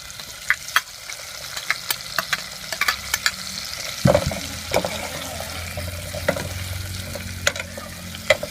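Garlic sizzles as it is sautéed in a pan on a portable gas stove, a steady hiss punctuated by sharp utensil clicks and a louder knock partway through, close and with no talking.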